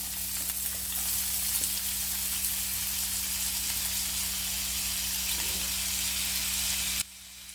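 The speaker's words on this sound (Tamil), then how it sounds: "சீரகம் லேசாக பொரியும் போதே நம்ம நறுக்கி வச்சுருக்க வெங்காயத்தையும் ஆட் பண்ணிப்போம்" Onions frying in hot oil with cumin seeds give a steady, loud sizzle and crackle that runs unbroken for several seconds before cutting off abruptly near the end; no one talks.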